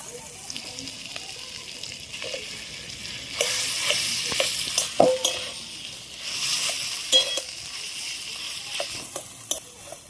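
Boiled potatoes are added to spiced oil and stirred as they fry, giving a soft sizzle with intermittent spoon scrapes and clinks against the pan, and brief louder bursts of frying.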